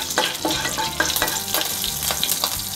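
Whole spices and bay leaf sizzle in hot oil with a dense, crackling fry and repeated stirring scrapes, loud and close with no talking.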